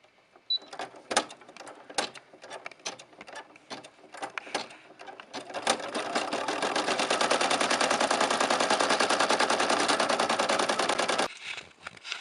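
A Brother PE770 embroidery machine stitches to tack down fabric: a few sharp mechanical clicks and taps at first, then a loud, rapid, steady rattling run of stitches that stops abruptly near the end.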